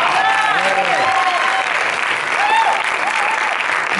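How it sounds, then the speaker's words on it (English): An audience gives a loud, sustained round of applause, dense clapping filling the whole stretch, with cheering voices rising over it. "Give a round of applause."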